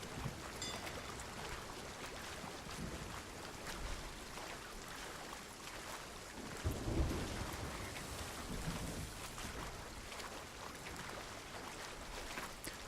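A thunderstorm with steady heavy rain rolls over the open sea in Sea of Thieves. There is a dense, constant wash of rain noise and a low rumble of thunder swelling near the middle.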